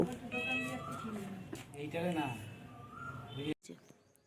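A pet cat meows indoors, its cries mixed with and partly overlapping a person talking to it, followed by a brief sharp knock and a quieter pause near the end.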